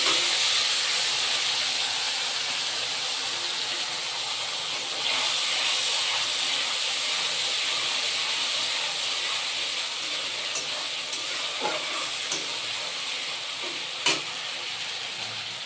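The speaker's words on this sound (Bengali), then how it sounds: "এবারে আমি এখানে আদা, রসুন, কাঁচা লঙ্কা পেস্ট করে রেখেছিলাম, এটা দিয়ে দিলাম।" Ginger, garlic and green chilli paste sizzles loudly in a hot pan, a constant close frying hiss that eases slightly, with a few faint utensil taps near the end.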